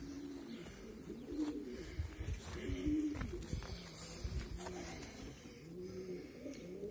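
Racing pigeons coo repeatedly at their loft during a 200 km Turek race flight, soft overlapping throaty calls rolling on in a steady rhythm throughout, close by with faint chirps in the background.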